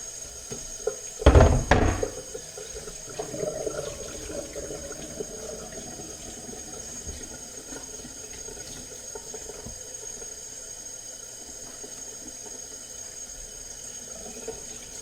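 Kitchen equipment for making rad na noodles is rinsed under running water, with a loud splashing burst near the start and a fainter steady trickle and occasional clinks afterward.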